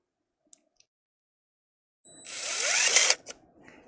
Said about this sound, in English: Didn't take too much to drill a hole through that